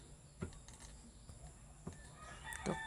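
A few short chicken clucks come in brief bursts against a steady background hum, fairly close but not loud.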